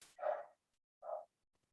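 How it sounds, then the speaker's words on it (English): A dog barks twice at a distance, two short muffled woofs spaced about a second apart with silence between, faint and somewhat indistinct. "That's a dog."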